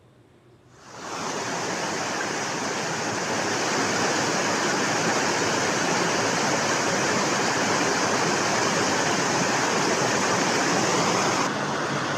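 Heavy rainwater runoff pours down from above during a severe monsoon downpour in India, a loud, steady rushing roar that swells in after a second and then holds unbroken, like a waterfall.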